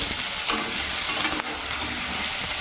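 Onion and green chili fry in a pan with a steady close sizzle and soft crackle, a couple of stirring scrapes breaking through, no voices present.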